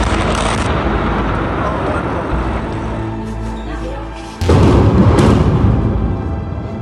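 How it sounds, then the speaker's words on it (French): Israeli bombardment of a building in Lebanon at around 5:30 in the morning: a loud explosion bursts in suddenly midway, lifting a steady rumbling background into a broad, sustained roar. "Cette explosion, elle est beaucoup plus puissante que celle qui avait en partie détruit l'immeuble la première fois."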